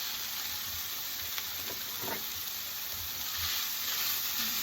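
Ground pork with garlic, onion and ginger sizzles in a pan as a steady, even frying hiss that carries on throughout, with a few faint stirring scrapes and no voices.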